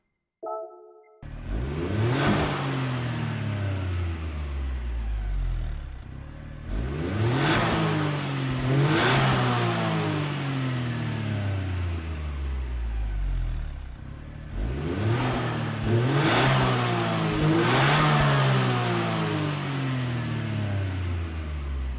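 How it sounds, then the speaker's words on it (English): Suzuki Jimny engine in Gran Turismo 7 revving hard through repeated climbs and shifts, pitch rising then dropping in several loud, close accelerating runs with gear changes, no talk. "let's actually have a listen to how the car sounds"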